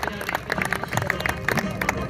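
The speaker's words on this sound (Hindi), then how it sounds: "इनके लिए भरपूर तालियां बजा दें।" Applause from the audience at a college cricket league award ceremony, steady scattered clapping from the crowd for a team called up for its trophy, brief and moderately loud.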